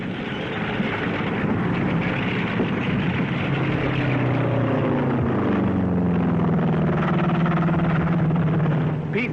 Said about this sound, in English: P-38s move ahead of the advancing forces